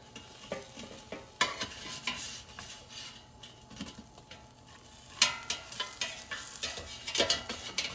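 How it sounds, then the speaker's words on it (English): Sweet potato chips are turned over in an air fryer basket, making light scraping and clattering with sharp clicks and faint sizzling, close and fairly quiet. "let's take out the air fryer basket and let's just turn over the chips so they cook evenly."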